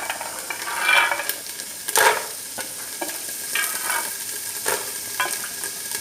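Carrots, beans and chickpeas are stir-fried in a pan for vegetable vermicelli bath, with a sizzling hiss broken by repeated scraping stirs of a spatula at irregular intervals.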